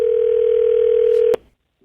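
A telephone dial tone for an outgoing call holds steady and loud for just over a second, then cuts off with a click, leaving near silence.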